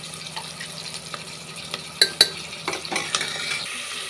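Onions and ground paste stirred in a pan, a series of close scraping and clinking spoon strokes over a low sizzle, with two sharp metallic knocks in the middle and no talk.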